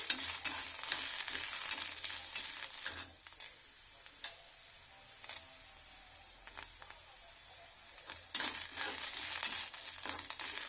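Cluster beans stirred and fried in a pan for chutney, giving a steady soft sizzle with scraping stirs and a few louder bursts near the end, close by and with no talking.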